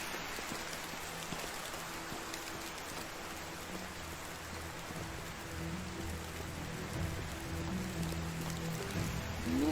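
Heavy rain pours in the medieval video game Medieval Dynasty, an unbroken wash of hissing drops with a low rumbling undertone that swells slightly toward the end.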